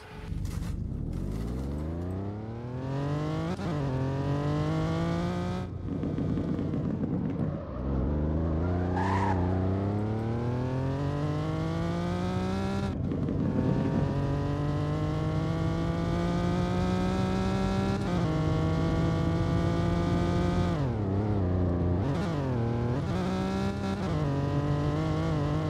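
A Lamborghini Countach engine in a Roblox driving game revs and shifts repeatedly, pitch climbing steeply through each gear, with a steady loud drone, occasional tire squeal and no voices.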